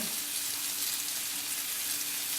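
Pork chop sizzling steadily in a cast iron skillet just after being flipped, a continuous even hiss of frying fat with no talking.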